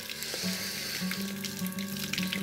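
Water pours steadily from traditional stone spouts at a village tap in Bandipur, Nepal, a continuous close splashing rush with no talk over it.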